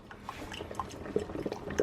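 A Hamilton Beach Scoop coffee maker pumps water up through the filter while brewing, giving a faint, uneven gurgle with soft drips and light clinks, with no voices.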